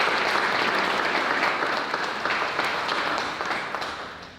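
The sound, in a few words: audience applause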